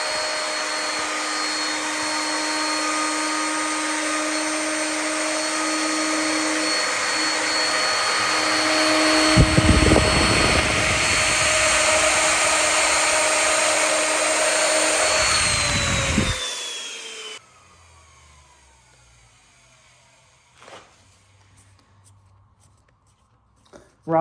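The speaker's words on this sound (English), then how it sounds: "Routering doesn't really get much smoother than that bit." Router cutting a rebate moulding on a wooden front door frame, a loud, steady high-pitched whine that roughens while cutting, then winds down and stops, leaving near silence.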